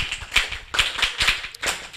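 Hands clap in a quick irregular series of sharp, close slaps, about seven claps in two seconds, at an Igbo summer camp gathering.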